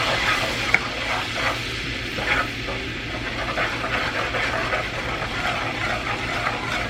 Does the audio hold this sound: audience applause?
no